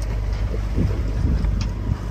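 Sailboat motoring through waves in a force 2 wind off Samos, a steady low engine drone under continuous wind noise and water wash, close and even throughout.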